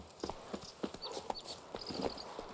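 Roach, a horse in The Witcher 3 video game, gallops with quick rhythmic hoofbeats, fairly quiet and blended with light game ambience.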